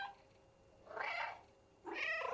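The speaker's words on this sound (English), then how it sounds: "Make the kitty meow and see what Dex does." The cat in the video game Stray meows twice, each a clear, drawn-out meow about a second apart, heard alone over a faint hum.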